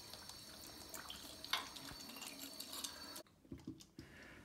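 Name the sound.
water rinsing through toilet cistern hose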